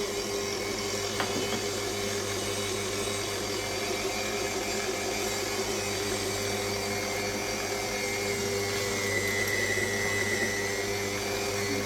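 A KitchenAid stand mixer with a stainless steel meat grinder attachment runs at speed four grinding venison, giving a steady, continuous motor whine and churning hum that holds at an even level throughout without pauses.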